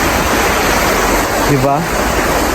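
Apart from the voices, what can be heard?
flowing river or stream in Germany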